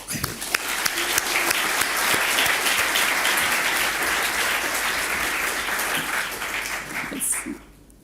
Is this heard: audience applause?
yes